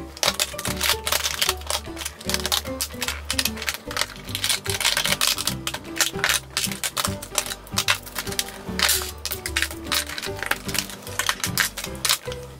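Plastic cosmetic compacts and highlighter palettes are taken out and set down one after another during a makeup declutter, making dense, rapid clicking and clattering up close over a low, steady backing.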